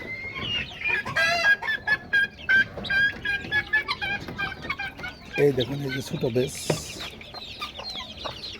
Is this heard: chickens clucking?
yes